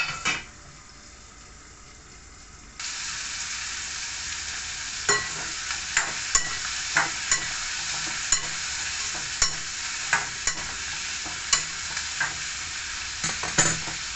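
Palak paneer gravy cooks in a pan. A quiet hiss gives way after a few seconds to a steady sizzle, with repeated light clinks of stirring against the pan.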